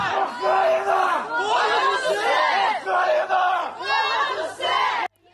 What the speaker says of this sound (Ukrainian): Натовп кричить та вітає одне одне.